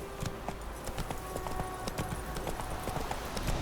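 Roach the horse's hooves clip-clop steadily in The Witcher 3, a fairly quiet, evenly paced run of sharp hoof strikes over a low ambient bed, with no talk.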